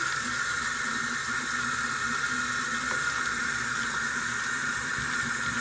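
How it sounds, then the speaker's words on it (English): Makeup brushes are rinsed under a running tap, a steady, close hiss of flowing water that stays even throughout with no voices. "So I'm just slowly adding water to that, just washing my brushes."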